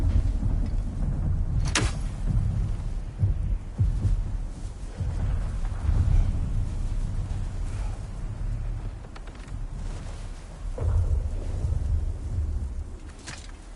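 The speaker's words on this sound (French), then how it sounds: "La tempête approche." Rumbling thunder from an approaching storm in God of War, low, heavy rolls swelling and fading with a couple of sharp cracks, steady storm ambience throughout.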